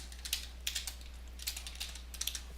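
Light, quick keystrokes on a computer keyboard in short clustered bursts, soft and close, over a low steady hum.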